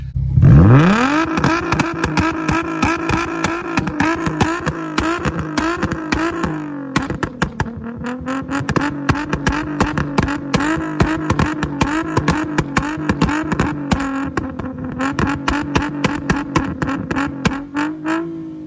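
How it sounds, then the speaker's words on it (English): An Infiniti G35 engine running an Uprev tune on map 2 is free-revved while parked, with a sharp initial blip and then a sustained, steady high-rev drone with rapid pulsing. It is loud and close, with no talking. "I'm gonna do free revving in map 2."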